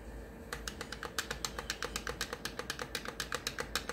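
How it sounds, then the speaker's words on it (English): Buttons on a NeoGeo Mini arcade console click in quick, uneven bursts during gameplay, close and crisp over a low electronic hum, with no talking. "you can hear the clickiness of the keys"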